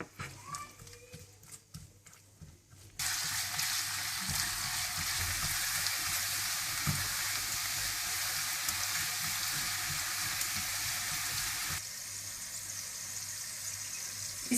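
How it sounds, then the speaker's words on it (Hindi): Onions hit hot oil for a moong masoor dal tarka and a bright, steady sizzle erupts after a few quiet seconds of kitchen sounds, then eases slightly near the end. "और तड़के के लिए आप थोड़ा सा तेल गरम कर लें। इसमें आप प्याज डाल दें।"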